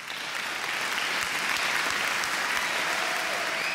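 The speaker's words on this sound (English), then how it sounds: "please join me in applauding the class of" A large convocation audience at an art and design university applauds the graduating class in a continuous, even wash of clapping that holds steady throughout, with no talk over it.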